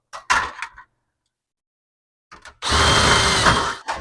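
Drill bit boring out old rivets: two brief bursts of drilling, a gap of silence, then a longer, loud, steady grinding run.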